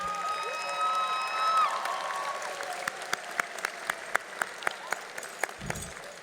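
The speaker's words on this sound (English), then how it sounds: "Any Worthing teachers and staff presence to stand so we may applaud you." Graduation audience in the stands applauding the high school's teachers and staff, with steady crowd clapping that turns into sparse, distinct claps toward the end after a brief tone fades.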